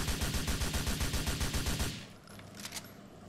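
Rapid automatic gunfire in Grand Theft Auto IV, a loud sustained burst of evenly spaced shots for about two seconds, then quieter scattered game sounds.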